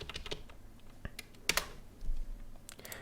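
Quick clicks of fingers typing a short name on a computer keyboard, a sparse burst of keystrokes with a louder cluster in the middle, close and clear with no talking.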